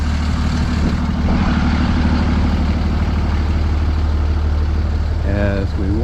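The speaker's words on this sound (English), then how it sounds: "sorry about the noise of the idling beer truck." A beer truck idles on a business street in Bar Harbor, Maine, producing a loud, steady low engine rumble throughout, with a brief voice near the end.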